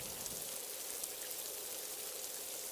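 Rain falls steadily in a forest, a soft, even hiss with no breaks and no other sound standing out.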